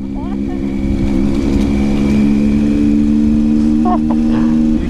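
A Honda Tiger motorcycle carrying a passenger while doing a wheelie, its engine holding a loud, steady drone close by with slight revving throughout.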